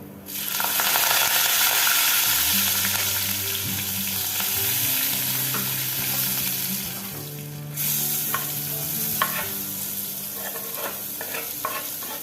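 Asafoetida and curry leaves sizzle loudly in hot oil for a Maharashtrian vegetable dish, a dense close crackling broken by metallic clinks of a spoon stirring, with no talk.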